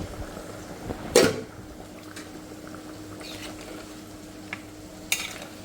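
Onions stir-fry in a pan with a soft steady sizzle beneath, broken by a couple of sharp scraping clatters of the spatula against the metal, close and fairly quiet, with no talking.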